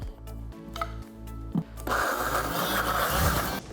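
A blender whirs loudly and steadily as it purees spruce tip pesto with garlic cloves and salt, the motor roaring up after a few brief clunks and bumps at the start.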